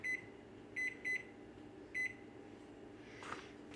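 A kitchen timer set while a Mountain House Chili Mac pouch rehydrates gives four short, crisp electronic beeps in an uneven rhythm, followed by a soft rustle at the end.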